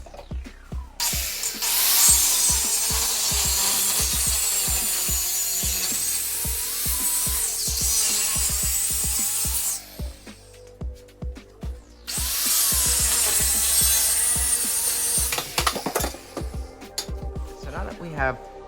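A power saw cutting through a steel front axle section, loud sustained grinding-whine in two long passes separated by a brief pause, with rattling clatter underneath and short knocks at the end.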